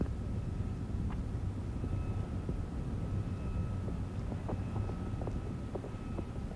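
Space Shuttle Atlantis main engines roar during ascent on mission STS-30, a steady, dense low rumble that holds evenly throughout with faint crackle and no voices.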